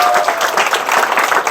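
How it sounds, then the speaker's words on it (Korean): Loud, close audience applause in a business team meeting hall, dense overlapping claps in a brief burst. "다시 한번 큰 박수 부탁드립니다"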